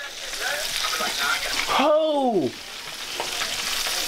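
Loud, steady sizzle of chicken frying in hot oil, with a voice shouting a short exclamation partway through.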